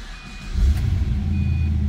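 A 2006 Pontiac GTO's engine cranks and catches into a deep, steady low rumble nearby, while faint electronic warning chimes sound briefly before and after the start.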